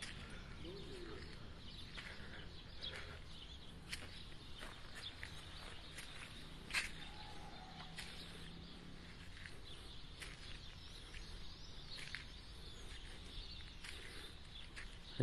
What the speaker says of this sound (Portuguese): Vocês conseguem ouvir o som dos pássaros?